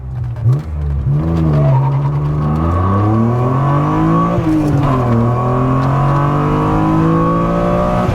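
A tuned BMW E36 M3 Evo with full exhaust launches hard from a standstill to 100 km/h, its engine note climbing through the revs, dropping at each gear change and rising again, loud and close from inside the car.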